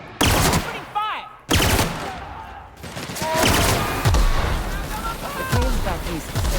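Rapid automatic gunfire bursts in The Outer Worlds, sharp repeated shots with loud cracks and scattered explosions, overlapping with voices talking throughout.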